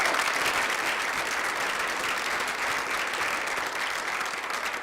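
Town hall audience at a discussion on gay marriage applauding in a dense, sustained wash of clapping that holds steady throughout and tapers only slightly toward the end.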